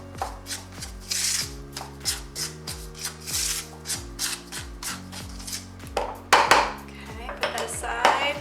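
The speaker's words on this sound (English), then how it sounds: "the Swerve granulated sugar and 2 tablespoons of cornstarch. Just going to mix that together." Granulated sweetener and cornstarch whisked together in a bowl for a gluten-free keto cheesecake, giving steady scraping and clinking strokes against the bowl over a low background hum, louder toward the end.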